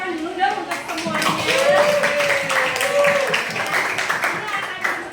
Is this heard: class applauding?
yes